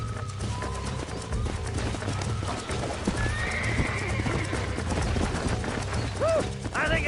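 A horse in the Red Dead video game gallops with a steady, close clip-clop of hooves under game background sound, then gives a clear neigh near the end.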